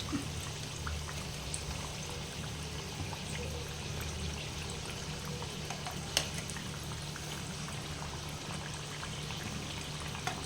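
Vegetarian samosas deep-frying in hot oil: a continuous soft bubbling sizzle, fairly quiet and steady throughout, with an occasional faint clink.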